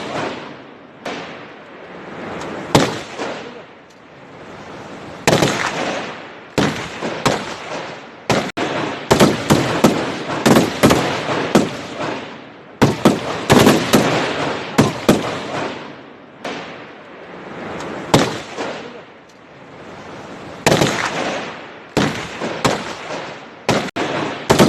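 Exchange of gunfire between security forces and militants in Jammu and Kashmir, with loud, rapid bursts and single shots cracking repeatedly over a sustained noisy background for the whole stretch.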